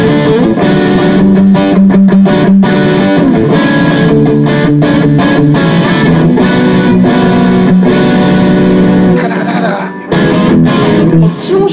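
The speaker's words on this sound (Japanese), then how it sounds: "2000年代初期のギター演奏に適したリードサウンドです。" An electric guitar plays a distorted lead tone through a Zoom G2 Four effects unit, voiced for early-2000s rock. It is loud and sustained, with a brief drop-out near the end.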